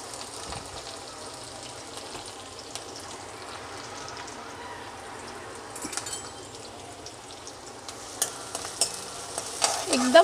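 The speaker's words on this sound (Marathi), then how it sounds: "मी पहिल्यांदा मिरच्या टाकते। मिरच्या फ्राय झाले की आपण कांदा टाकूया।" Green chillies frying in a pan for masala kanda dal, giving a steady low sizzle with occasional stirring scrapes that grow busier and louder toward the end; no speech.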